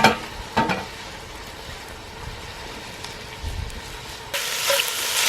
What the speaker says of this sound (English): Let's sear up a little bit.